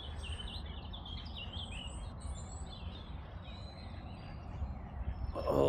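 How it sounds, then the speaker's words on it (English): Birds and ducks chirp and twitter faintly in the distance over a low outdoor rumble at a lake in a nature reserve, with a louder rustle at the very end. "All them birds"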